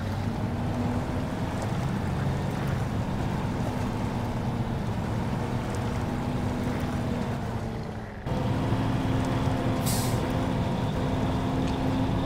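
Heavy truck engine reversing in the SnowRunner video game while a stuck trailer is being recovered, a steady loud diesel drone with a constant low hum, a brief dip near the end, then a short hiss like an air brake.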